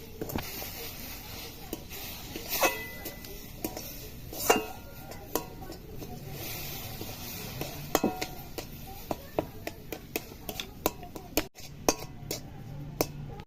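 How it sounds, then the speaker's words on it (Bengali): A spoon stirring semolina with milk in a pan, with intermittent clinks and scrapes against the metal over a quiet kitchen background. "দুধ দেব, অল্প অল্প করে দেবো আর নাড়বো।"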